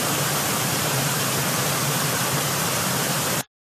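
Loud, steady rush of water at the top of a waterfall, a dense unbroken roar that cuts off abruptly at the end.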